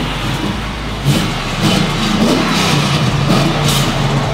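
Truck exhaust fitted with long tube headers, a wide pipe and a big muffler, a steady low rumble with a revving surge partway through, loud and close with no talk.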